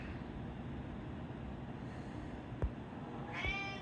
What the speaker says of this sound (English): Oh, I think you can hear my cats in the background.